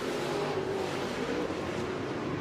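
Dirt late model race cars, Sherman-built three-link cars, race at Florence Speedway during a Lucas Oil Late Model Dirt Series event, a loud, continuous engine roar from a pack of cars with no voices over it.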